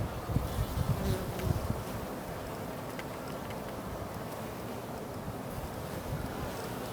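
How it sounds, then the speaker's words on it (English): Honeybees droning steadily around their hive on a cold, rainy day, a continuous near buzz with light wind noise and no voices. "I just enjoy watching the bees work, do what they do."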